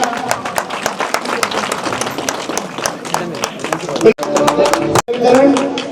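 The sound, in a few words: applause at school ceremony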